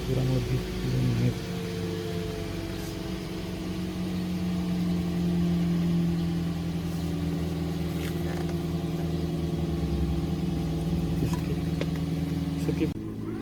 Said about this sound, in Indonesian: Lalu kita hidupkan mesin selama kurang lebih 10 menit.